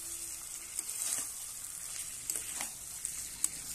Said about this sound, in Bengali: চিকেনটা একটু লালচে করে ভেজে নিতে হবে।